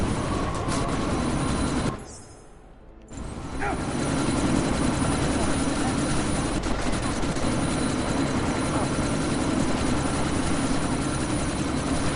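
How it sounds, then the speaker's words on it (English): A helicopter in Deus Ex: Mankind Divided drones with a steady, loud rotor roar amid a sandstorm, briefly dipping before returning at full strength, with faint voices beneath. "you need to disable that chopper"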